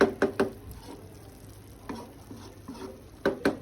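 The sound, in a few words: stirring food cooking in a pan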